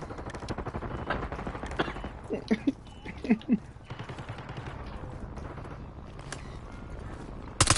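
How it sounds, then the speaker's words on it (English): Gunfire in the Warzone game (Black Ops 6 Rebirth Resurgence mode), with a few sharp bursts of shots standing out over a dense, busy background of game noise and movement. "There's a motherfucking person shooting bullets at me"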